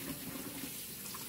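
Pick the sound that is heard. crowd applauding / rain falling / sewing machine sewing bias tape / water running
water running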